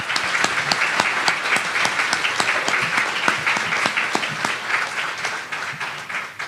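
Applause for the panel at a caregiver summit: a room of people clapping steadily, dense and even, with individual sharp claps standing out, tapering slightly toward the end.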